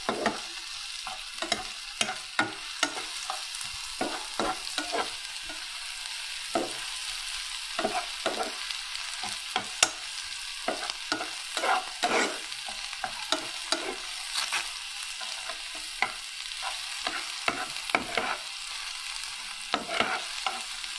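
Vegetables deep frying in plenty of oil in a home kitchen pan, a steady hiss with frequent sharp stirring scrapes and clinks throughout, close and moderately loud with no talking.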